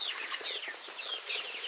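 Chickens cluck and chatter continuously outdoors near their coop, several birds close by at moderate volume with no talking.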